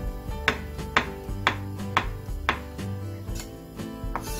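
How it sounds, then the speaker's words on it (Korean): A knife chops mushrooms and other vegetables for Korean doenjang soup, with regular firm strikes about twice a second on a cutting board, close and distinct over a faint hum. "된장국에 썰어 넣으세요"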